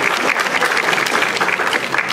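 Loud, sustained applause fills a ceremony hall at a university engineering faculty event as a crowd claps steadily together with no voices over it.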